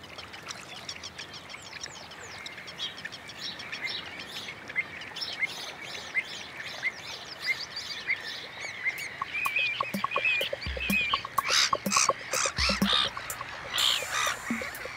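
Black-headed gulls call from a coastal colony in a dense, continuous chorus of overlapping cries. The calls build louder toward the end, and a low rumble comes in near the close.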